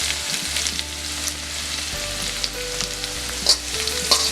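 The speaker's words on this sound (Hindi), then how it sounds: "इसको फुल गैस के ऊपर हम थोड़ा सेक लेंगे।" Chopped ginger, garlic and a finely cut green chilli sauté over a full flame, crackling in a steady close sizzle with a few stirring scrapes, no voices.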